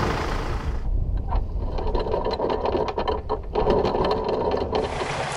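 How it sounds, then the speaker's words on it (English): Marine engine on a sailboat running steadily in the background while leaving a harbour, a continuous mechanical rumble with a rapid repetitive clatter, with brief shifts in tone partway through. "You can hear the engine in the background."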